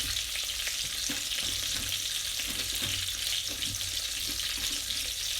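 Chicken pieces with slits cut along the bone frying in oil in a pan, a constant close crackling sizzle with small pops and occasional soft knocks, no voices.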